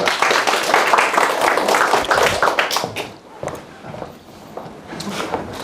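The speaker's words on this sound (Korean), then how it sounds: "한 박수 부탁드립니다." Applause from an audience at a student presentation session at a festival, dense clapping for about three seconds that thins to scattered claps, then picks up briefly again.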